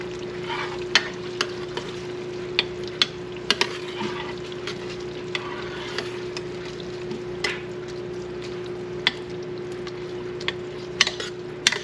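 Pork leaf lard rendering in a pot on a farm, giving a soft continuous bubbling sizzle with a faint steady hum underneath and scattered sharp clicks from stirring, with no talk.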